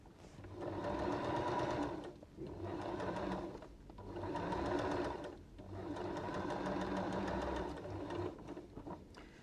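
A sewing machine stitches fabric for a dinosaur taggy in three long, steady runs with brief pauses between them, its needle whirring rapidly and evenly at close range.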